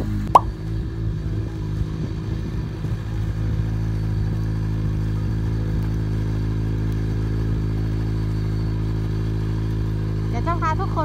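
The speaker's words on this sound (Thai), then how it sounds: "วันนี้พาทุกคนไปขับสโนว์โมบิลอีกแล้วค่ะ" A snowmobile engine drives steadily on a frozen lake in northern snow country, its low droning hum constant and close throughout, with a brief clatter near the start.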